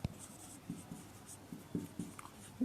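Handwriting during a chemistry lesson, soft scratchy strokes and taps of a pen or chalk coming in short irregular bursts, close and quiet with no talking.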